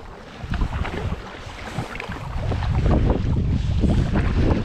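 A kayaker paddles a Açu 120 kayak upriver against the wind, with rushing wind buffeting the microphone and water splashing from strokes, growing louder partway through.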